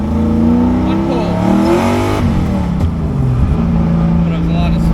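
A dusty, 1UZ V8-swapped Nissan S13 drift car revs hard, its engine note climbing through several rising pulls and then dropping away, loud and close, with a voice speaking over it.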